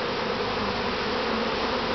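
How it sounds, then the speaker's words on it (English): Honey bees at an open top bar hive during a honey harvest make a dense, continuous buzzing drone, close and steady with no talking. "let me get these bees out of the way"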